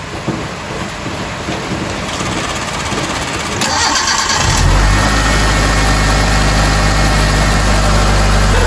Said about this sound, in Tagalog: I-start na natin yung engine. Start natin.